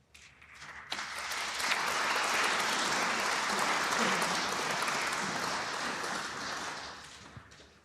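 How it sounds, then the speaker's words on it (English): Snooker audience applauding at the British Open from a neighbouring table, clapping swelling in and holding steady for several seconds before tapering off, with brief commentary murmur at the edges. "More applause from table 2"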